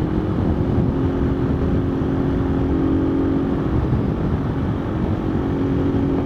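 A Honda motorcycle engine fitted with a CBR 250 Standard piston, 76 mm, runs during break-in, giving a loud continuous drone that stays steady without speech.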